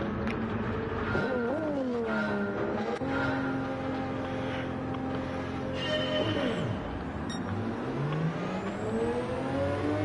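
All-wheel-drive race cars in Gran Turismo 7 launch together off the start, engines revving hard and climbing in pitch through gear changes, loud and continuous with no talk.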